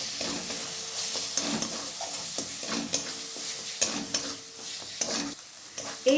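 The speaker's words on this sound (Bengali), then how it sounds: "আবার আমি ভালোভাবে কষিয়ে নিচ্ছি।" Turmeric and chili powder masala being sautéed in a pan, with a steady sizzle and repeated scraping stir strokes throughout, close and moderately loud.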